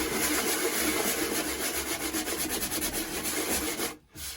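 Hand sanding block smoothing a rough surface, with steady back-and-forth rubbing and rasping strokes, close and continuous, ending with a short pause.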